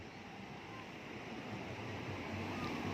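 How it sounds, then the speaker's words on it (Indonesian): Strong ocean surf at an Indonesian tourist beach makes a steady broadband wash of crashing waves, with wind buffeting the microphone throughout. It is fairly quiet overall and has no distinct individual breakers. "Ombaknya deras banget."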